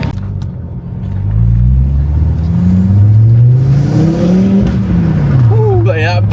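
A Volvo S60R T5 with a new exhaust accelerating on the road, its engine rising from a low idle rumble into a loud, sustained revving drone with pitch sweeps as it pulls away.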